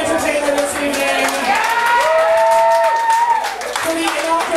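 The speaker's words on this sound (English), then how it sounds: "give a big round of applause for every entertainer this evening." An audience at an evening entertainment show claps loudly and steadily for the performers, with cheers and whoops rising over the applause while a voice talks through it.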